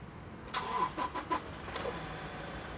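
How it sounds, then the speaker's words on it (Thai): A 2018 Toyota Revo 2.4 E manual pickup starts with a short burst of cranking that catches within about a second, then settles into a quiet, even idle heard close by. "เดี๋ยวผมสตาร์ทฟังนะครับ ว่าเสียงเครื่องของคันนี้นะครับ"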